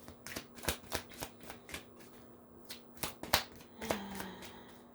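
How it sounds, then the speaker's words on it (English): Tarot cards are shuffled and pulled at close range, producing a series of crisp riffling snaps and slaps in an uneven rhythm, fairly quiet, with no talk. "We're just going to pull 3 more cards"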